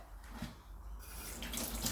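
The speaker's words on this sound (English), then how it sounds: "and then just rinse my bag." Tap water runs steadily over a nut milk bag in a sink as it is rinsed, a faint, continuous splashing hiss that grows slightly brighter in the second half.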